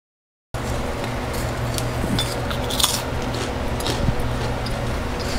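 Crisp crunching of fried lotus seeds being bitten, several sharp crackles over steady kitchen fan hum, close and fairly quiet.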